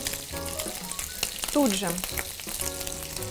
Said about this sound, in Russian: После того, как мы обжарим бекон, вот этот вот жир естественный, он останется на сковородке.